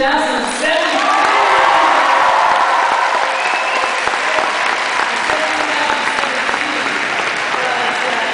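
A large crowd at a high school graduation applauds steadily, with scattered cheers and whoops rising through the sustained clapping.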